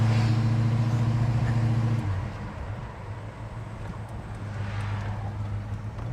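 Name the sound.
classic car engine running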